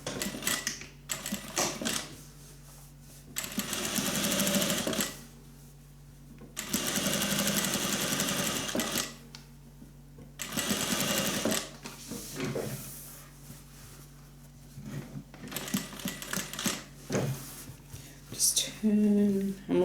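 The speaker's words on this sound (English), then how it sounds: "all I need to do now is straight stitch along there" A sewing machine straight-stitches a sling bag in several loud bursts of steady whirring, separated by short pauses.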